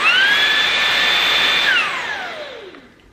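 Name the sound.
Dream V11 vacuum cleaner running on turbo power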